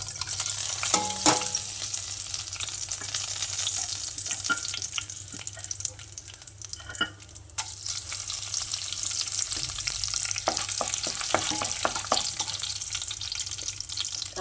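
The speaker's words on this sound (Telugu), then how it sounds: "ఆవాలు మంచి చిటపటలాడాలండి." Mustard seeds spluttering in hot oil for a tempering, a steady frying hiss with scattered sharp pops and crackles throughout, close and moderately loud.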